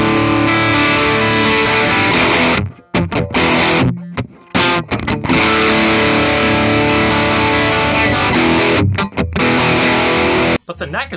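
A distorted 1985 Gibson Explorer played through its Dirty Fingers bridge pickup, loud and saturated, with chords and riffs broken by several short pauses where the sound drops out.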